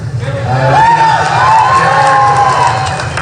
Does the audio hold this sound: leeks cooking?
no